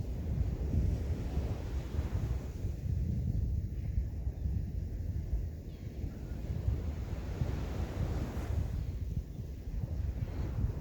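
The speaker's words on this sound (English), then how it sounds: "Listen to that ocean." Ocean waves heard outdoors during a restorative yoga session, a continuous low rushing roar of surf mixed with wind buffeting the microphone, steady and fairly loud with slight swells.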